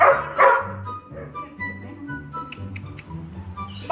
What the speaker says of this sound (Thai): หนูจะเสียงดังหนูหอนมั่งได้ไหมเป็นไซบีเรียนนะ